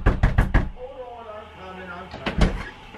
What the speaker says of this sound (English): Okay, so how should I knock?